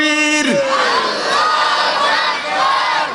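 A large crowd at an Islamic religious sermon gathering shouts a takbir chant response in unison, a loud, sustained roar of many voices rising after a lone leading voice cuts off.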